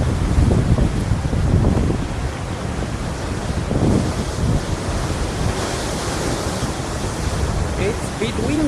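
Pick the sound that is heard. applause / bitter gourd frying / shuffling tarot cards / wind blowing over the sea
wind blowing over the sea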